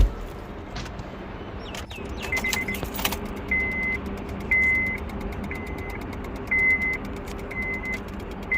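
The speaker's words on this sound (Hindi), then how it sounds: "रिले का साउंड आ रहा है, स्टार्ट नहीं हो रहा है।" A 2008 Honda Civic that won't start after an engine change, its relay clicking with the ignition on: a cluster of sharp clicks, then a steady string of evenly spaced chime beeps over a low cabin hum.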